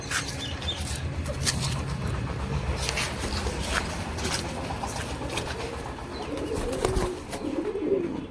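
A hand-raised, heavy pigeon, out of breath and slightly scared, coos low and continuously close by against rustling noise, with no talking.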